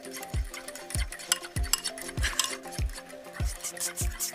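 A utensil beats eggs in a bowl with a steady rhythm, sharp knocks against the bowl roughly every half second, no voices.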